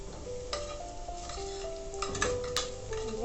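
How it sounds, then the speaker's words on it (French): Food browns in a pan over medium heat for a lentil dish, a soft steady sizzle under frequent scraping and clinking stirring strokes, with a sharp metallic tick near the end. "On laisse bien dorer à feu moyen. Il faut remuer de temps en temps"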